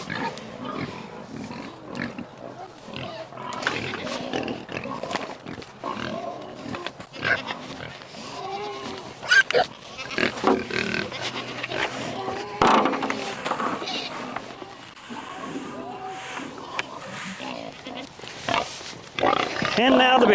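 Big pigs at feeding grunt and snuffle through a long stretch of busy farmyard noise, with clanks and knocks mixed in and a person talking at times over the animals.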